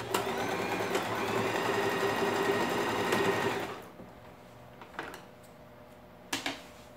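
Sewing machine stitching the lining of a zipped toiletry bag, a fast steady mechanical whir running close for a few seconds, then stopping, followed by a couple of light clicks and fabric handling.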